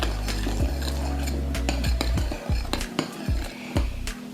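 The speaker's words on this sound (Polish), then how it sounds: "Następnie do miski wlewam piwo i całość wymieszam" A utensil stirs 330 ml of beer with dried herbs in a bowl, making repeated clinking scrapes and swishes against the bowl, loud and close, with no talking.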